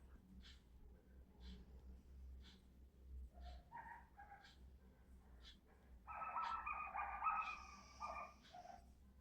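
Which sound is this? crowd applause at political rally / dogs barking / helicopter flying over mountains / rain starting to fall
dogs barking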